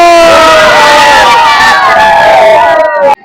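A large, dense crowd gathered and waiting at a busy juice stall before iftar, a loud continuous hubbub of many overlapping voices and shouts that cuts off abruptly near the end.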